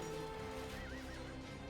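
A horse neighs and whinnies inside the Age of Empires II battle, a steady drawn-out call riding over dense, continuous game noise with no talk.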